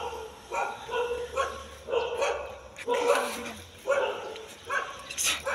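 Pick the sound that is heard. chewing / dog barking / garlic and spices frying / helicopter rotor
dog barking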